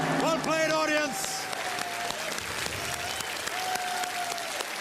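Studio audience applause on the Indian quiz show Kaun Banega Crorepati, a steady crowd clapping that fills the clip, with a host's voice talking over the opening second.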